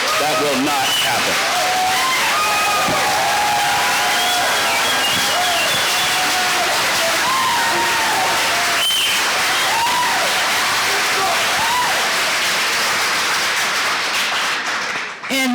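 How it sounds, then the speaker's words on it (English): Loud sustained applause from an audience at a county sheriff candidate forum, dense clapping filling the room for the whole stretch, fading slightly at the end. "Hey, I appreciate your clapping there."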